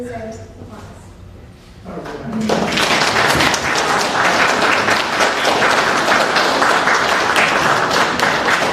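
An audience at a bar mitzvah breaks into loud, sustained applause that follows a moment of speech and then fills the room with dense clapping for several seconds.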